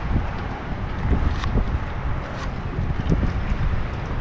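Strong sea wind roars steadily with buffeting gusts across the microphone, loud and continuous, with no voices over it.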